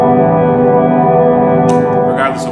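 An EHX Cathedral reverb pedal holds an infinite, sustained reverb wash of guitar chords that rings on steadily and loudly, with a few brighter new notes picked over the top near the end.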